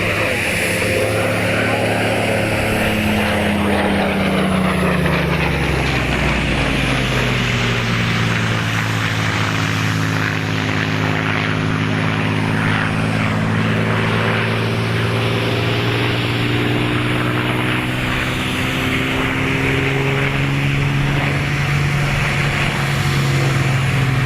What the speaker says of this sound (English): Spitfire AD910 is a Mark 5B.